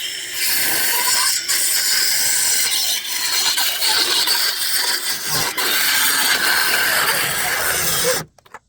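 A saw cuts steadily through pallet wood to trim off the bottoms, a loud, continuous rasping stroke sound close by that runs for about eight seconds and then stops abruptly.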